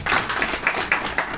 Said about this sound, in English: A proper round of applause for a Gedi.